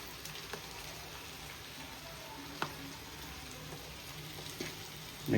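Onions fry with turmeric in a pan, giving a faint, steady sizzle with a few soft pops and clicks.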